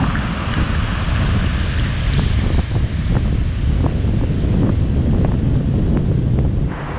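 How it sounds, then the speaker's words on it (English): Strong, steady wind buffeting the microphone, a loud continuous low roar with gusty rumbling throughout and no voices. "very windy out there today"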